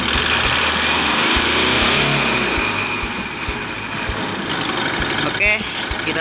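A diesel engine idles steadily in a workshop setting, a continuous low rumble with an irregular knock, heard close and loud throughout, with a brief sharp mechanical squeal near the end.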